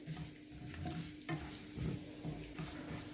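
Cumin and whole spices fry in hot oil in a pan for a spiced potato dish, with a soft, continuous sizzle and occasional scraping stirs, faint and close with no talking.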